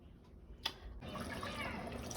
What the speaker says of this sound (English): So now I'm gonna put it to soak in some water.